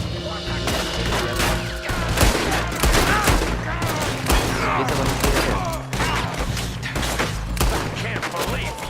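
Gunfire in the video game Red Dead Redemption 2, a dense, continuous shootout with rapid overlapping shots and cracks, loud and close, mixed with game music and shouting.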